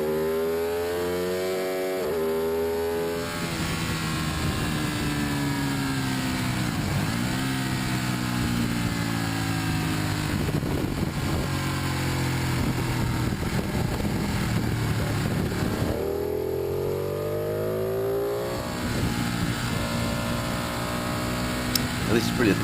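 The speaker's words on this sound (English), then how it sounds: "let me just show you a couple of videos now that I took on board the bike on the way around the circuit" Onboard a motorcycle lapping a race circuit, the engine drones loud and close, rising and falling in pitch through repeated gear changes and accelerations, with wind rush throughout.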